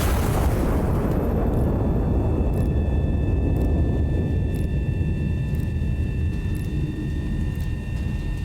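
A high-explosive artillery shell fires in the Iron Nest video game, a big broadband boom that rolls into a long, loud rumbling decay, with faint steady tones and light ticks running through it.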